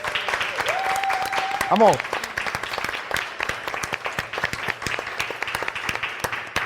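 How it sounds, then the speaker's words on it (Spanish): Scattered audience clapping at a festival, sparse hand claps running under a voice, with a short whistle-like tone and a shout of encouragement early on. "un aplauso para ellos"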